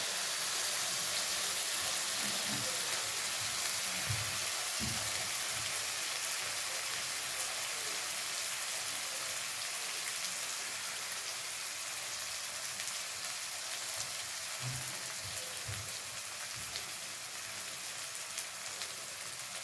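Chillies and shrimp fry in a pan for Bengali shrimp paste, giving a steady, rain-like hiss of sizzling oil throughout, with a few soft low knocks.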